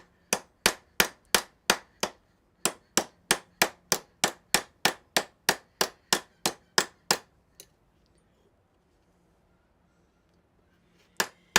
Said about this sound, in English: I really need to have a bigger ball peen.